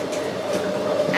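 Interior of an X'Trapolis suburban train carriage while riding, a steady low rumble and hum of the moving car with faint rattles, continuous and even.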